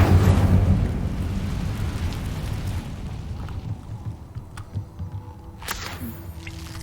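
An Incendio fire spell cast in Hogwarts Legacy bursts with a loud, booming roar that rumbles and fades over a few seconds, followed by quieter crackles and a couple of sharp magical snaps.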